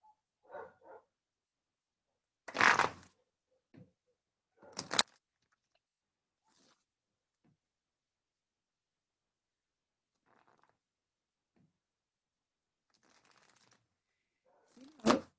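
Tarot cards are shuffled by hand in a few short, crisp riffling bursts separated by long quiet gaps, close and fairly soft.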